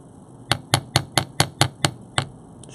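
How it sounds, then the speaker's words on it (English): The ball side of a hammer strikes metal bracelet rings to texture them, eight crisp metallic taps in a steady rhythm followed by a softer tap, close and clear with no talking. "I could take the ball side of my hammer."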